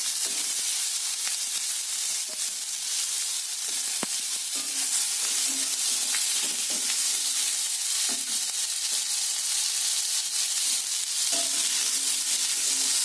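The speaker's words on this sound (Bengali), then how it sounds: "দিয়ে আগে আলুগুলোকে ভালো করে ভেজে নিচ্ছি" Potatoes with a little turmeric fry in hot oil for a chana dal curry, giving a steady, close sizzle with faint stirring clicks and no talk.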